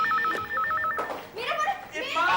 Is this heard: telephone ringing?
yes